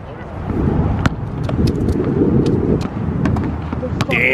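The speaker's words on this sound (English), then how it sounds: "the wind picked up like crazy." Strong gusty wind on an outdoor basketball court buffets the microphone with a loud, steady roar, broken by a few sharp knocks and taps.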